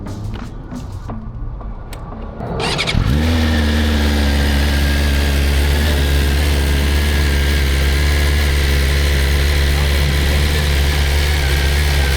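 A 2025 BMW S1000RR motorcycle starts and settles into a steady, loud, close idle, with quieter outdoor noise before the engine catches.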